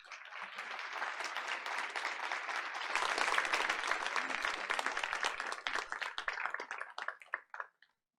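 An audience at a school board of education meeting applauds an honored school employee, full clapping that swells midway and then thins into scattered individual claps before fading out.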